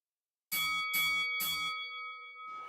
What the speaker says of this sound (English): There is the bell